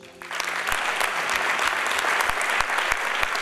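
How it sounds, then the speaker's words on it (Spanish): A church congregation at a sermon breaks into applause, dense clapping that swells quickly and stays strong. A few sharper individual claps stand out in the crowd noise. "Quisiera, por favor, un aplauso para Dios."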